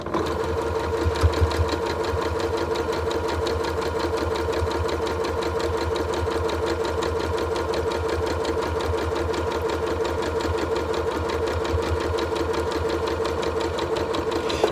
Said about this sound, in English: I'm going to sew a 1/4 inch stitch line on either side of that line I just drew on the one square.